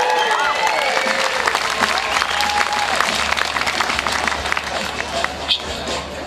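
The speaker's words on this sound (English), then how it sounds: "Can we get a cheer for public services?" Concert crowd at a Rock for Public Services show in Thorold breaks into loud applause and cheering, dense clapping that gradually thins toward the end.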